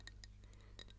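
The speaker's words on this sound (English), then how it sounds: "the glass makes nice sounds at the top" Glass water bottle in a rubber grip cover, tapped or touched near its top, giving several faint, bright clinks and ticks spaced irregularly over a quiet low hum.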